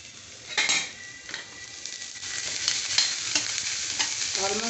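Chopped onions with a pinch of salt frying in a pan, a soft steady sizzle with repeated spoon scrapes and light utensil knocks against the metal, close by and fairly quiet.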